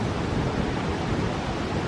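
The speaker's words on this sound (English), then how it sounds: "it's windy today here in the park." Strong wind from approaching Hurricane Ian roars steadily into the microphone at Cliffs of the Neuse State Park, North Carolina, a dense, continuous rush with no voices.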